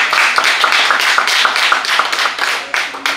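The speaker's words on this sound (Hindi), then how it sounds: "आप लोगों की तालियों की जो गड़गड़ाहट है" Close, loud clapping from an audience at a farewell ceremony for a retiring State Bank of India branch manager, rhythmic and slightly uneven hand claps continuing with small dips in intensity.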